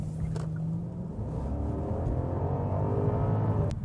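A 2015 Genesis with a 420-horsepower V8 idles and cruises in a smooth, steady low rumble, heard from inside the car with no talking.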